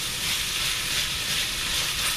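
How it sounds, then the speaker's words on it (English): Italian sausage browns in a skillet with a steady, moderately loud sizzling hiss that holds evenly throughout, close up and without talk. "we're just browning the sausage"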